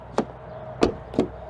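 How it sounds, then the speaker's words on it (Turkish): Car door of a Hozon Neta U electric car shutting, three separate sharp thumps at close range, each brief and solid, with quiet gaps between and no talking. "Kapı sesini merak eden arkadaşlar çok fazla var."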